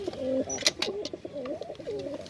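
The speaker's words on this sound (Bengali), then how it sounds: "দেখুন আমার এখানে ফ্যান্টেল কবুতর তো এদেরকে আমি এটার ভিতরে" Fantail pigeons kept in a cage give low rolling coos close by, mixed with sharp clicks and rustling.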